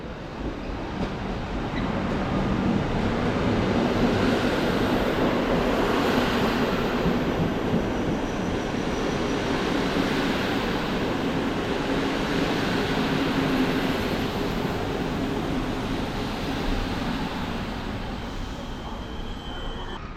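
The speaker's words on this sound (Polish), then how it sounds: "Na tor 12 wjeżdża Bystrzyca ze stacji Lublin Główny" The Bystrzyca train from Lublin Główny pulls into track 12 at Warszawa Wschodnia station with a steady rolling rumble and wheel noise that builds, holds for most of the stretch, then eases slightly, with no voices.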